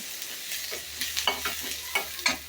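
Onion fries with a little ginger paste in a pan. A continuous sizzle runs underneath a steady series of scraping stirring strokes, close up.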